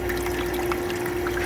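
Inside an Igloo ICEB26HNAQ countertop ice maker, water trickles and splashes continuously over metal rods, with a steady pump hum underneath, close up and moderately loud.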